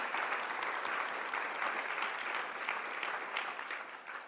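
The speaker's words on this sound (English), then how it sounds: "join me in giving a round of applause to your speakers and to yourselves also" Conference audience applauding the speakers at the end of a UNDRR session on systemic risk, a steady, sustained wash of many clapping hands throughout.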